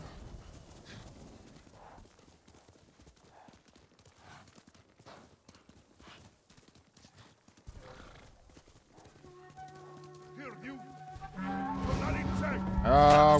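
A horse gallops in the video game Ghost of Tsushima, with quick rhythmic hoofbeats throughout and a whinny and music swelling at the end.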